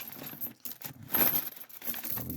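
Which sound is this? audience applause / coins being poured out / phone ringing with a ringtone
coins being poured out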